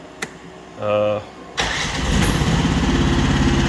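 A click and a short warning beep, then a Rippa NDI313 mini excavator engine cranks and catches, settling into a steady, fairly loud idle.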